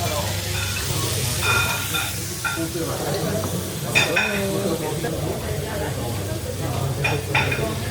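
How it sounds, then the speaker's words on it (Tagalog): A spoon stirs kimchi fried rice in a hot sizzling pan, scraping and clinking against the metal over a steady fry hiss, with voices chatting in the background throughout. "haluin natin yung kimchi rice"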